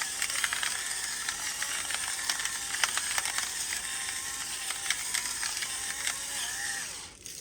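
Salt and pepper ground into tortellini soup, heard as a close, steady ratcheting crunch of a hand grinder that keeps a quick, even rhythm and then stops.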